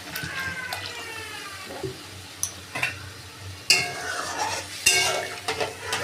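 Masala cooked down with whisked sour yogurt and a splash of water gets stirred in a pan. The spoon scrapes and knocks in uneven bursts over a low sizzle, close and fairly clear.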